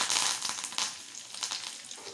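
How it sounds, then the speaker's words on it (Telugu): Fresh curry leaves hit hot oil for a brinjal chutney, giving a bright, close crackling sizzle that bursts loudly at first and then settles into a steady hiss, with no voices. "ఫ్రెష్ కరివేపాకు వేస్తున్నాను."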